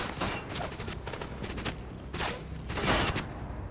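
Sustained gunfire during a mid-boss fight in The Division shooter game, overlapping bursts and volleys rolling on loud and dense without pause, swelling near the end.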